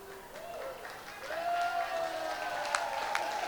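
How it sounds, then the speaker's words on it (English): Football match crowd cheering and applauding the stretcher bearers at a Tanjong Pagar United game, a steady wash of distant clapping and cheers with a few whistles rising over it. "And the biggest cheer of the day goes to the stretcher bearers."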